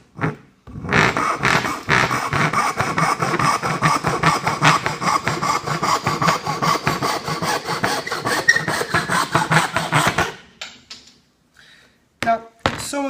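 A saw cuts down straight through wood clamped in a vise for a towel holder: loud, rhythmic back-and-forth strokes for about ten seconds, then the sawing stops and a few faint knocks and scrapes follow.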